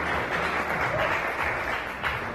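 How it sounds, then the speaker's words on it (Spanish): Crowd applause rises inside a restaurant at a hotel event, a steady wash of many hands clapping at moderate loudness, with no talking over it. "a quien presento también y pido un aplauso, Rocío Campos, por favor."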